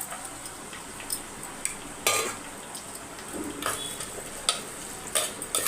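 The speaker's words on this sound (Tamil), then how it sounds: "இப்போ வெங்காயம் வதங்கட்டும்" Crushed small shallots sauté in oil for a sardine fish curry, with soft sizzling under repeated ladle scrapes and clinks against the pan, no voices.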